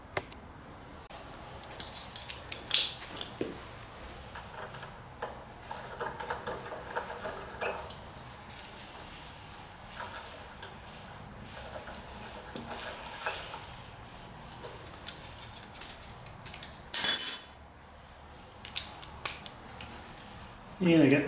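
Fork pinch bolts are fitted on a Honda VTX 1300R motorcycle, making scattered small metallic clicks and ticks of handling and threading close by, with someone talking at times and a few sharper clanks near the end.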